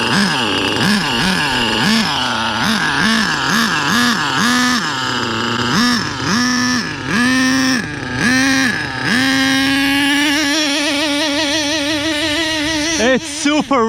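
The nitro engine of an HPI Savage RC car runs rich at about a third throttle in tall grass, its buzzing pitch rising and falling in quick revving cycles before settling into a steadier drone. The engine is loud and close.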